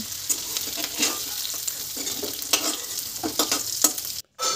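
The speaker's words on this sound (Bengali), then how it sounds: "এবার ওই কড়াইয়ের মধ্যে দিয়ে দিচ্ছি সেদ্ধ করা আলু, আর লবণ হলুদ দিয়ে ভালো করে এখানে ভেজে নিয়েছি" Boiled potatoes fry with salt and turmeric in a wok, sizzling in oil while a spatula scrapes and stirs in repeated close strokes, ending in a brief cut of silence.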